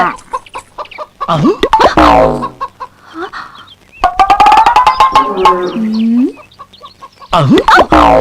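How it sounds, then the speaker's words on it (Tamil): Chickens in a loud, busy run of clucks and squawks from a comedy film scene, bursts of sharp calls coming in clusters with brief quieter gaps between them, close and prominent. "பொன்னரசி அந்த கோழி எல்லாம் திறந்து விடுமா"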